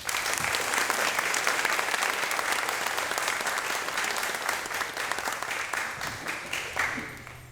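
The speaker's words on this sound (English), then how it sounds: "a round of applause to all of you" An audience at a public speaking competition applauds, a dense, continuous roar of clapping that stays full and steady, then thins slightly at the end.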